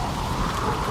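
Heavy rain pours steadily through a night storm, a dense close wash with a low rumble of thunder beneath, no voices.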